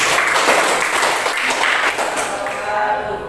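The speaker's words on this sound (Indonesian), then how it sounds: "Kita kasih aplaus." Students applauding a group presentation in a class session, a steady wash of clapping from the room with some voices underneath, fading slightly toward the end.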